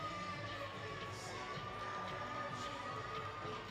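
An indoor arena crowd cheers and applauds an injured player hobbling back to the bench at an indoor soccer game between the Empire Strykers and Dallas Sidekicks in Allen, Texas; a steady roar of claps and shouts.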